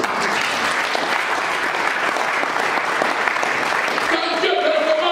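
Church congregation applauding during a worship service, a dense, loud wash of clapping that fills the whole stretch, with voices and some musical tones emerging toward the end.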